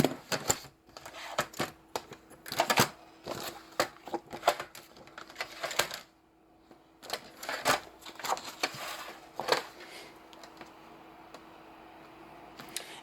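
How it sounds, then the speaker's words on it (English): A paper trimmer slices through paper in a quiet room, producing a run of sharp, irregular clicks and scraping strokes in short bursts, with a pause midway before more cuts. "I would take my paper trimmer and trim that off."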